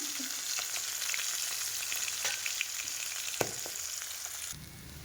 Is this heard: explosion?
no